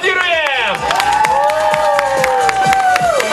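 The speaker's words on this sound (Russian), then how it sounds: "давайте все вместе еще раз поаплодируем" An audience applauds and cheers loudly and continuously over a whistling tone that glides up and down, with dense, rapid clapping and crowd noise filling the room throughout.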